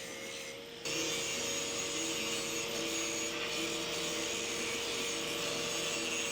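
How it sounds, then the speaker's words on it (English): Continuous, loud grinding of metal on a welded rock table frame, starting abruptly after a brief quieter moment and holding steady as a dense, abrasive whir with no talking. "That was a lot of grinding."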